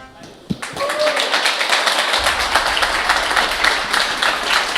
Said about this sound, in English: let's give a big round of applause to our players